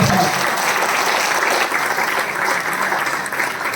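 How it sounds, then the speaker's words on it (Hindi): Loud, sustained applause from an audience at a banquet hall event in Ranchi, continuous dense clapping from start to finish. "एक बार जोरदार ताली होनी चाहिए हमारे"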